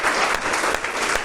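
A church congregation gives a strong, sustained round of applause, a dense steady wash of many hands clapping at once, with no voices standing out.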